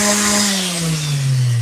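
A palm sander works a cabinet door with a loud, buzzing motor hum whose pitch slowly drops as pressure is applied, close by and heard alone.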